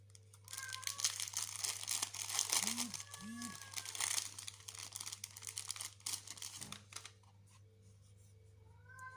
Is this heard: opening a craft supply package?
yes